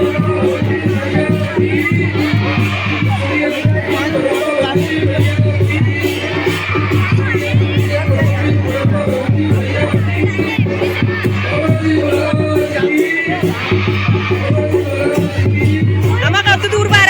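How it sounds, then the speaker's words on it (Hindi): A large, dense crowd at an annual ashram festival in Uttarakhand, with loud, continuous babble of many voices and occasional shouts and whoops throughout, close and steady. "यहाँ काफ़ी भीड़ लग रखी"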